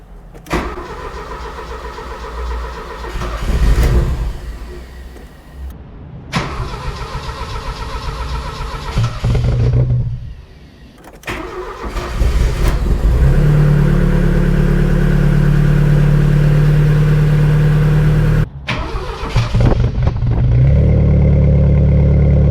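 A Porsche 924 Turbo, long left sitting, cranks in repeated bursts before its engine catches and settles into a loud, steady idle close by.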